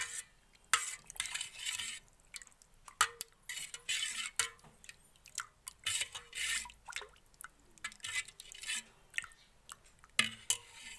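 Tomato rasam ingredients with coriander powder being stirred together in a pot, with repeated scraping and clinking of a spoon against metal in an uneven rhythm, close and fairly loud, no talk.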